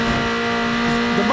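Acura RSX engine in Need for Speed Underground, a steady loud drone with a strong tonal hum held throughout a brief moment, faint revving texture beneath.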